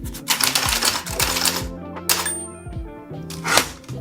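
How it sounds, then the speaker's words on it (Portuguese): Keys on a typewriter clack in quick bursts of strikes with short pauses between them, close and fairly loud, and no one talks. "Eu já fiz datilografia."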